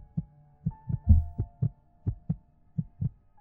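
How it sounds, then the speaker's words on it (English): A slow, steady heartbeat thumping in low, muffled pulses, about three beats a second, with nothing else around it. "I'm hearing a heartbeat."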